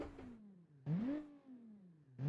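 A V6 car engine in the driving game BeamNG revs in three rising bursts, each climbing in pitch and then easing back down between pulls, loud and close with no talk.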